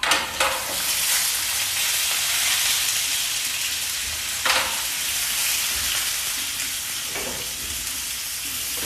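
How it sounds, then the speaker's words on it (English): Clams dropped into a hot pan for seafood pasta, setting off a loud, continuous hiss of sizzling with sharp spitting bursts at a few points, close and without talk. "I'm about to drop some clams in here and they're gonna spit."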